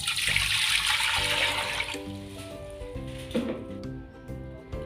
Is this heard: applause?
no